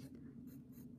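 A pencil moves across paper to sketch a dress: soft, close scratchy strokes in a steady rhythm, quiet and without speech, over a low hum.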